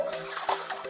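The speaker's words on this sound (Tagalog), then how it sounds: "yung lumalabas sa gripo, tap water namin, malamig na agad yan" Cold tap water runs from a household faucet in Baguio, a close, steady splashing stream with a few brighter spatters, alone with no voices.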